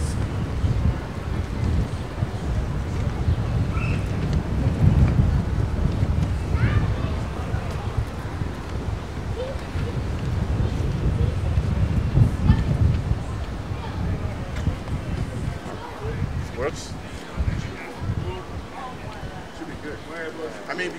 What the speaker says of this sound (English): The wind comes this direction